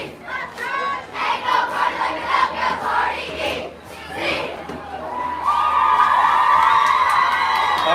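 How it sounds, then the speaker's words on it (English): Student section crowd at a high school varsity football game between Hilltop and El Capitan, cheering and shouting in loud sustained waves, swelling into a dense roar toward the end. "we're going to have a lot of noise tonight. We do have the student section right in front of the press box"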